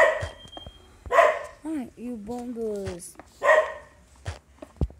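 A dog in the Minecraft video game barks and whines in a few short, rising-and-falling yelps, mixed in with an excited person talking loudly over the game sounds.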